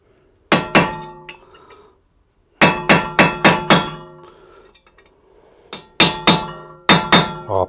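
A hammer strikes a pin on the front wheel bearing assembly of a Chevrolet Captiva, loud sharp metallic blows close by, coming in quick bursts of one to four ringing hits separated by short pauses, with no talk.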